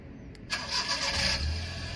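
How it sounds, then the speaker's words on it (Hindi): A modified Maruti 800 car engine is started by remote with no one inside: a short crank that catches about half a second in, then settles into a low idle, close and fairly quiet. "मैं आपको सामने डबल क्लिक करूंगा और ये गाड़ी स्टार्ट हो जाएगी"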